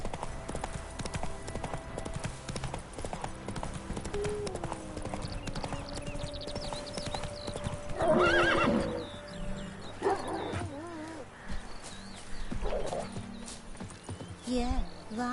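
Horse galloping in The Witcher 3 video game, a steady clip-clop of hooves running through the scene with a neigh partway, under game music and background chatter from other characters.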